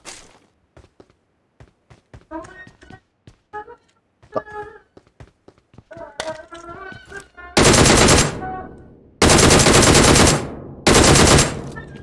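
Gunfire in the battle-royale shooter PUBG Mobile, first scattered footsteps and small clicks with faint distant pops, then three long, loud bursts of automatic fire close by, each lasting over a second.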